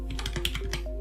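Quick burst of typing on a computer keyboard, several crisp close key clicks in rapid succession over about a second.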